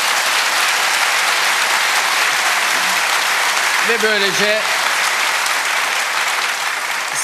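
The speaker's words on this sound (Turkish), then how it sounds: "sizin selamınızı da kuvvetli alkışlarınızla veriyorum." Strong studio audience applause on a Turkish live talk show, a continuous roar of clapping throughout, with a voice briefly speaking over it partway through.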